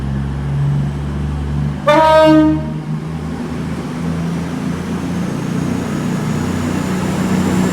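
A train driver sounds a two-tone horn at Exeter St David's station in the evening, a loud, brief pair of blasts standing out over the steady rumble of a train and station ambience.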